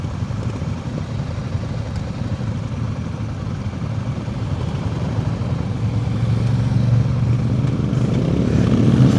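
A Royal Enfield Guerrilla 450 motorcycle engine runs steadily while riding, a close, continuous low throb that gradually grows louder toward the end, with no talk.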